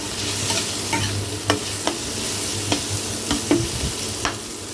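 Chopped potatoes fry in a pan with a pinch of salt and turmeric, a steady close sizzle broken by sharp scraping stirs every half second or so, with no voices.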